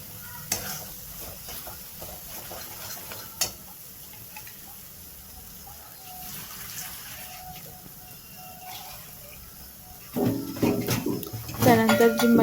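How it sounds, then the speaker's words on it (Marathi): Green masala paste frying in oil for a sprouted moth bean curry, giving a faint sizzle with scraping stir strokes and a couple of ticks, then louder stirring and sizzling toward the end, with a voice speaking throughout. "तेलामध्ये एकदम व्यवस्थित परतून घ्यायचं आहे आपल्याला हे वाटण."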